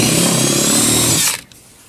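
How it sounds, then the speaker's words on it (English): A power drill re-bores a hole in a Land Rover mud guard, running loud and steady at close range for over a second before cutting off abruptly into near silence. "So I'm going to have to drill the hole again"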